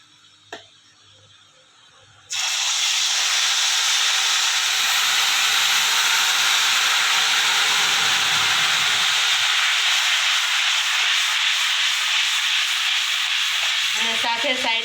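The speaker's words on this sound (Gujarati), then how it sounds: "હવે એમાં જે આ ટમેટાની પ્યુરી છે એ એડ કરી દઈએ" Tomato puree for pav bhaji hits hot oil in a pan, and a loud, dense sizzling hiss starts abruptly and keeps going strongly for about twelve seconds, with a faint clatter before it.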